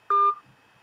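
A single short dial-tone beep from a Samsung Galaxy S2 running S Voice as it places a call, a clean electronic tone lasting about a third of a second against near silence.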